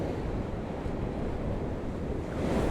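Ocean waves roar in a constant, broad wash of surf on an outdoor shoreline, with a little wind noise and no voices.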